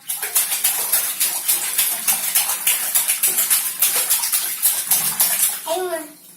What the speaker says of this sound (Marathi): छान खेळा खेळा पाण्यात खेळा.